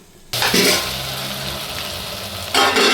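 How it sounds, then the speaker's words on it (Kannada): Food sizzles and fries in a pan in a home kitchen, a steady hiss that starts abruptly and flares louder briefly near the beginning and again at the end. "ಇದು ಇಷ್ಟು ಫ್ರೈ ಆಗಿದೆ"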